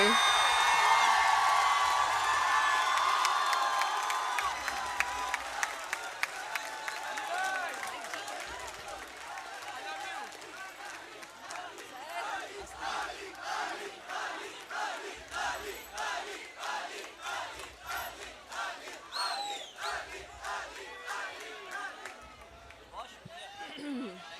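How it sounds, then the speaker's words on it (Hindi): Applause and cheers from a literature festival audience greet poet Ali Zaryoun, loud and dense at first, then thinning into scattered rhythmic clapping that carries on for over twenty seconds. "तालियां आप पे।"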